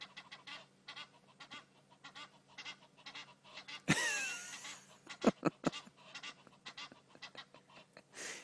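Egyptian geese squabble outdoors with repeated harsh honks and hissing calls. Most are moderate, with one loud, close burst in the middle and sharp honks soon after.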